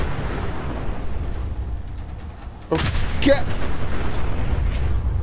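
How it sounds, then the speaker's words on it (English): A sudden, loud explosion bursts out in the Fallout 4 video game, followed by crackling rumble and a second blast, over a background of low game noise, with a brief spoken word nearby. "If he survives all the explosions."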